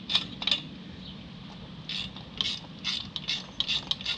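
A ratchet driving a T25 Torx bit loosens a bolt on a GM AutoRide air suspension, giving bursts of rapid clicking pawl ticks with short pauses between strokes, close and clear.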